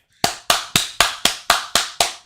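Nine sharp hand claps ring out at a steady, even rhythm, close and loud, with no voices.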